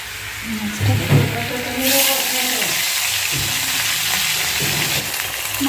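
Fish frying in oil in a pan, a continuous close sizzle with a rise midway as pieces are moved, while someone talks quietly over the frying.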